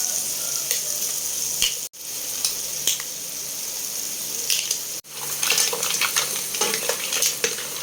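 Mussels sizzle steadily in a pan with tomatoes for a Filipino seafood dish, broken by two abrupt silent cuts and scattered clicks of stirring, louder and busier toward the end.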